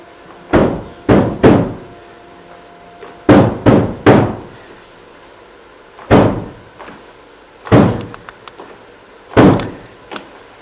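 Someone pounds and bangs on a door in a Hindi-language film, loud heavy thuds in quick bursts of two or three separated by pauses, close and without talking.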